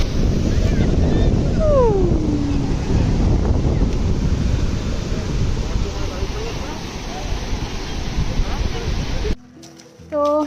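Sea waves wash onto the beach at Puri in a continuous, rushing surf roar mixed with wind buffeting the microphone. Voices are heard briefly, and the sound cuts out near the end.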